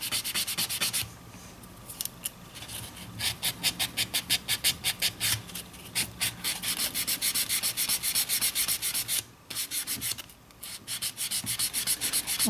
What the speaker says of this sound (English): all you really need is a white buffing block